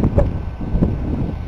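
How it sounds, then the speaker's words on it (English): Wind gusts buffet the microphone outdoors in a low, rumbling rush that comes in a couple of stronger puffs, with no voices heard. "it's still pretty windy out here"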